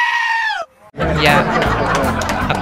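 A sheep in the block game Mini World lets out a single loud, wavering bleat, then a brief silence before dense, noisy game sounds and voices take over.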